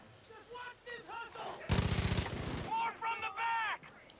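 A burst of rapid gunfire in Far Cry 5, loud and dense for about half a second amid the game's sounds, with a voice speaking before and after.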